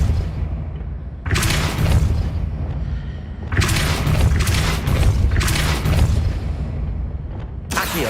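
A spell pushes a stone platform across a bridge in the Hogwarts Legacy video game, heavy booming rumbles and grinding stone impacts arriving in several loud bursts with quieter gaps between them.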